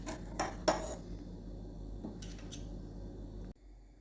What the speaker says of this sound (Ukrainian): Все змішуємо вінчиком